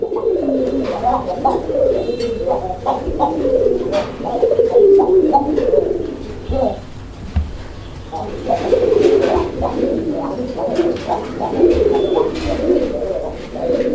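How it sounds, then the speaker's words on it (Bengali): A female Raj Golla pigeon coos, repeated soft throaty coos in a steady rolling rhythm, fairly close and clear, with a few faint chirps in the background. "এই যে মাদিটা দেখেন আপনারা ডাক দেখেন"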